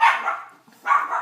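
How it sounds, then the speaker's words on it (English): A dog barks twice in quick succession, two fairly near, sharp barks separated by a short pause, heard alone without talk. "Sorry about the barking."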